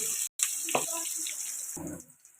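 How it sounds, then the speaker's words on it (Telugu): Chopped onions fry in a pan with a steady close hiss and sizzle that briefly drops out, with small clinks and stirring noises mixed in before it fades slightly at the end. "ఉల్లిపాయలు ఇలా ఫ్రై అవుతున్నాయి కదండి"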